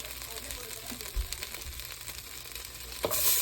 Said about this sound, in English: we want to sear this veggies in. So we're going to go through sear.